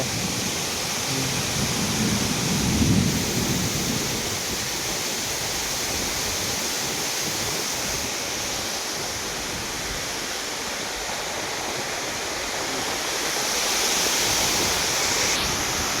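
A powerful, steady roar of rushing water fills the air, broad and unbroken, from the Honnamma Devi waterfall near Chikmagalur, close by, with no voices.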